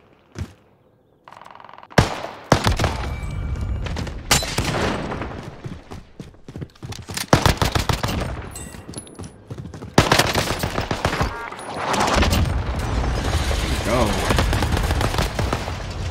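Gunfire in Call of Duty Warzone: sharp bursts and rapid automatic shots, some close and loud, others scattered, with brief lulls between volleys and occasional voices.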